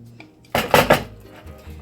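Pinto bean cornbread batter with pork rinds is mixed in a bowl, giving a short burst of three clattering scrapes and knocks of a utensil against the dish, close and fairly loud, with quieter clinks around it.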